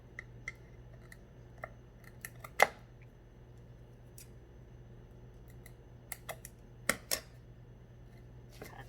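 Cutting during work on a small wooden sign with crackled paint: a handful of sharp, scattered snips and clicks, the strongest near the start and a couple more later, set against a quiet room with a low steady hum and no talking.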